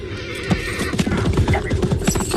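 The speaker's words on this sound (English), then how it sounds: "Having trouble with his horse by the looks of it." A horse neighs and whinnies repeatedly amid busy clip-clop hoofbeats, close and loud, at a period military gathering where an officer struggles with his mount.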